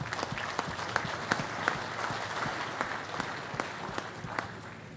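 Steady applause from an audience at an agriculture summit, with individual claps popping out above a continuous wash of clapping that slightly fades by the end.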